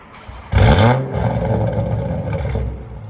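Toyota Supra GR with its 3.0L inline-six and modified exhaust, a sharp loud rev burst that settles into a rough, rumbling idle, close to the microphone.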